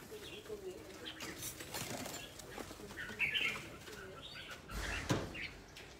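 Pigeons coo softly and flap their wings in a quiet outdoor setting, with faint, brief flutters and calls scattered over low background noise.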